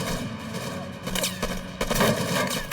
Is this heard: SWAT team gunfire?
yes